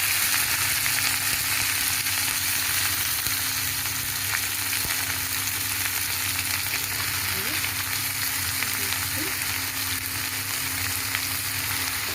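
Pononuwa greens sizzle steadily in a hot pan as they fry, a loud, dense crackle close by that runs without a break, with faint stirring scrapes now and then.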